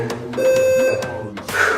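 A single clear electronic beep sounds for about half a second, loud and close, amid background music and a faint voice.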